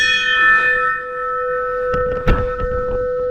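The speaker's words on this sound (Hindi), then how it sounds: "मंदिर का घंटा" A metal bell at the Shri Karisiddeshwara Swamy Hindu temple in Ramagiri, Chitradurga, rings loud and close, its steady tones sustaining with a fresh clang struck partway through.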